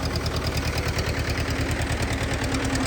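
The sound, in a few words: Zetor 1811 tractor engine running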